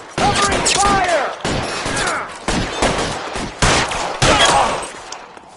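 Video game gunfire in a PS4 shooter, dense bursts of rapid automatic shots with sharp breaks between volleys, loud and punchy, with a player's voice talking over parts of it.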